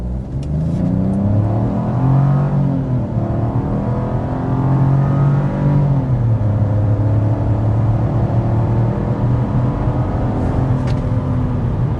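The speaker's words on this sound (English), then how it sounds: "we need to go ahead and start with a hard acceleration" A 2026 Buick Envista with its 1.2-liter turbocharged three-cylinder under hard acceleration, the engine drone rising steadily in pitch through the gears with brief dips at each shift, loud and continuous from inside the cabin.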